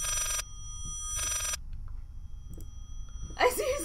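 A telephone ringing in the Layers of Fear horror video game, two long bright ring bursts separated by a pause, with quiet background and a voice breaking in at the end.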